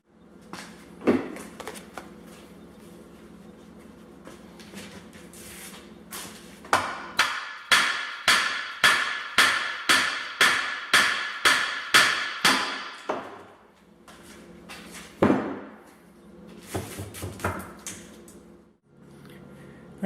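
Steady hammer blows ring out as a worn, corroded ball joint is driven from a Jeep WJ control arm: a rapid run of about fifteen sharp metallic strikes, plus a few scattered heavier knocks before and after.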